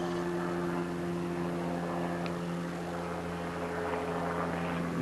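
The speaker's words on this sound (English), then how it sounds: "seemed to have an airplane or something overhead. Black helicopter." A helicopter drones steadily overhead, a continuous low rotor hum that stays fairly constant throughout.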